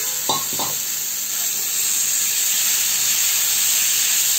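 Karonda berries go into a pan with turmeric and ground ginger to make a chutney, giving a steady soft hiss and sizzle throughout, with a couple of brief stirring scrapes near the start.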